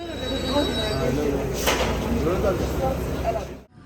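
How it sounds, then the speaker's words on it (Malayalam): A Paris metro train is in the station, with a broad rumble of rail noise, a short hiss or screech burst in the middle, and people talking over it until it cuts off abruptly. "അപ്പോൾ നമ്മൾ നമ്മുടെ മെട്രോയ്ക്ക് വേണ്ടി വെയിറ്റ് ചെയ്യാം"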